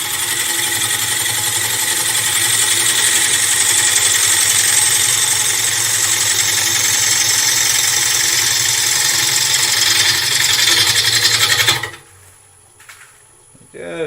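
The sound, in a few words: wood lathe spinning rippled sycamore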